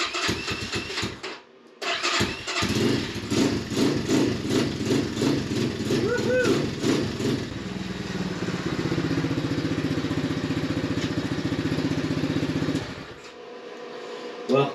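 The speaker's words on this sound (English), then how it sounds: "Well, the bike runs great." An X Pro Storm DLX 250 dual sport motorcycle cranks and starts, then runs with a steady, throbbing idle that holds for about ten seconds before cutting off, loud and close with no talk over it.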